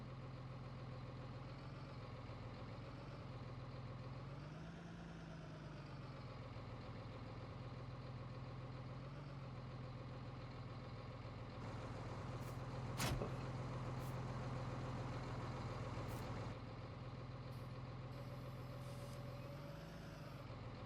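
In the farming game, a tractor engine idles with a steady low rumble that swells slightly now and then, with a sharp click midway and faint beeping toward the end, no talking.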